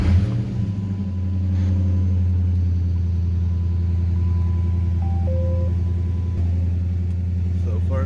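Chrysler 300C SRT8 with the 6.1L engine and Corsa intake cranks and fires up, settling into a deep, loud, steady idle rumble close by.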